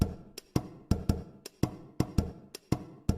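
Drum kit made from popcorn pops with compression and reverb, punchy kick-like hits and lighter hi-hat ticks in a steady beat, loud and alone.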